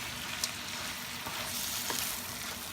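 Banana blossom frying in a pan for kilawin, a soft, steady sizzle with a few scrapes and clinks as a utensil stirs it, fairly quiet and close with no voices.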